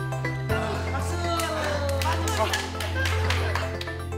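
A small group of people claps together in a short burst of scattered hand claps after a farrier finishes pulling a horse's shoes. The claps sit over a steady low hum, with voices speaking alongside.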